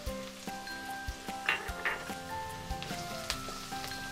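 Mixed vegetables with turmeric and coriander powder frying in a pan make a soft, continuous sizzle with scattered light clicks and spatula taps, fairly quiet, with a faint steady hum underneath and no speech.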